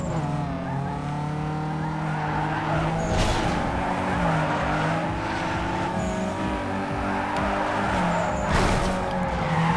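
In Need for Speed Underground 2, a car drifts with sustained tire squeal over a droning, revving race engine, the screech swelling and fading in waves at full loudness.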